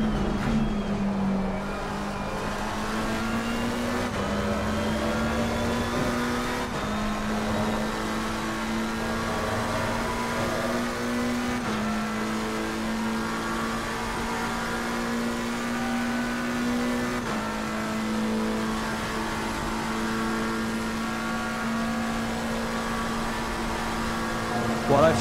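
A McLaren 720S GT3 EVO race car engine in Assetto Corsa Competizione at Spa, a loud, steady high-revving drone that shifts pitch slightly through gear changes and braking, with someone talking over it.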